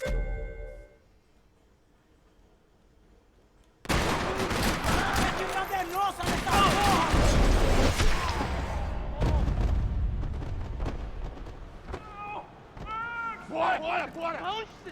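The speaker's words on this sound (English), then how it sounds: "Another parking lot rattling with gunfire." Gunfire rattles through a parking lot in the video game Max Payne 3: after a quiet opening, dense bursts of shots and impacts erupt loudly and keep going, mixed with shouting voices and game effects.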